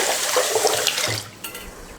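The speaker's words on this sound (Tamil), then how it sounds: "இப்போ ஊறுறதுக்கு தண்ணி ஊற்றிக்கலாம்." Water poured into a vessel of washed rice, urad dal and fenugreek set to soak for dosa batter, a loud close splashing gush that tapers off after about a second.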